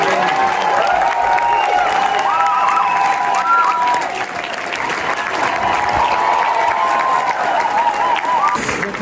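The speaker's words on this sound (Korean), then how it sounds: "지금 이렇게 박수를 치고 시작하죠" An audience claps and cheers in a screening hall at the Cannes Film Festival before the film begins. The applause is loud, dense and continuous, dips briefly midway, then swells again with scattered whoops.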